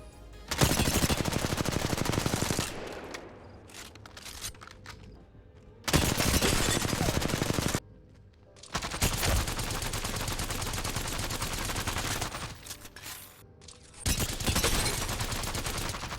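Assault rifles firing in the Apex Legends and Warzone video games, several loud bursts of rapid automatic fire lasting a few seconds each, separated by quieter gaps, with no talking.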